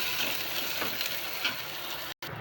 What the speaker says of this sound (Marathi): चांगला कांदा भाजून घेऊया.